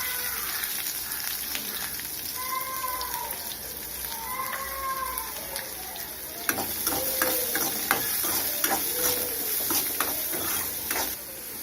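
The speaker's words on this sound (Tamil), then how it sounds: "இது கூடவே கடலைப்பருப்பு போட்டுக்கலாம். நல்லா வந்து வெங்காயம் வதங்கட்டும்." Onions and chana dal sauté in a pan for rava upma, a constant soft sizzle under close stirring and scraping that grows busier in the second half, with faint tonal chirps in the background and no voices.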